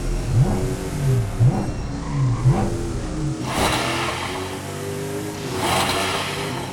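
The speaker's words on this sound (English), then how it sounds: "Okay then Yanni, let's rev up the GT4 RS." A Porsche GT4 RS engine revs up and down in rising and falling sweeps in the video game Driving Empire, then settles into a steady mid-pitched drone with bursts of noisy roar.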